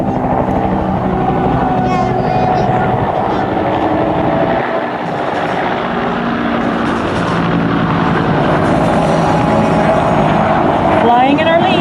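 AH-1 Cobra attack helicopters of the Army Sky Soldiers fly in at an airshow, a loud, steady rotor and engine drone that swells and holds throughout, with an announcer talking over the noise.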